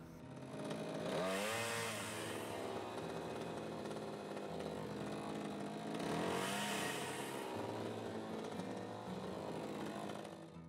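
Craftsman 18-inch gas chainsaw, model CMXGSAMY421S, cutting logs to length outdoors: a steady buzzing engine drone with two rising revs as the chain bites in, heard from a moderate distance.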